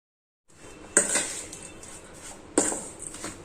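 A spoon scrapes and clinks against a bowl while turmeric and Kashmiri red chilli powder are mixed into a pickle masala, with two distinct clattering strokes over a faint background.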